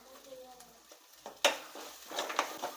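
Curry leaves stirred into frying chicken curry masala, quiet crackling and sizzle with a sharp scrape of a spoon against the pan partway through, close and faint.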